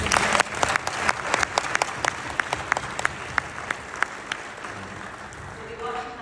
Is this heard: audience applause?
yes